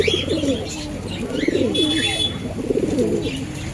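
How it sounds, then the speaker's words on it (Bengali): Pigeons cooing inside a pigeon shop, several birds giving repeated low throaty coos in overlapping bursts close by, over a steady background hum. "পায়রার ডাক দেখুন আর পায়রার কোয়ালিটি দেখুন।"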